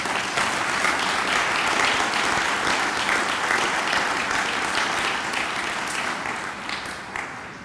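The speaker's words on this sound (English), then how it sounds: "So clap for them now." Audience at a foundation annual meeting applauding the board members, a dense, steady round of clapping from a large room that holds strong and then gradually fades toward the end.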